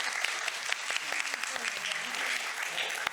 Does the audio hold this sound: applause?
yes